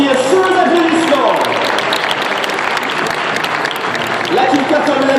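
Spectators clapping at an equestrian show, a continuous loud wash of applause under an announcer's amplified voice speaking over it.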